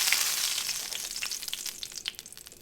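A beef roast sears in hot bacon fat for a pot roast, giving a loud, steady sizzle with crackling pops throughout, close by and with no talking.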